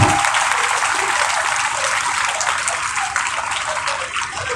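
Crowd of girls at a school assembly clapping, a loud dense wash of applause sustained evenly from start to finish with no talking over it.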